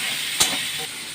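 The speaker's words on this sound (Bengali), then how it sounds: "আলুটাকে দিলাম, দিয়ে একটু ভাজা দেবো।" Potato pieces frying with whole spices, green chilli and ginger in an oiled wok: a brief, close, steady hiss with one sharp surge of spitting.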